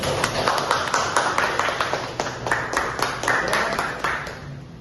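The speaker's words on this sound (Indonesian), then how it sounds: "Tepuk tangan terlebih dahulu." Students in a classroom clap their hands together, a brisk run of fairly close, distinct claps from a small group in a steady rhythm.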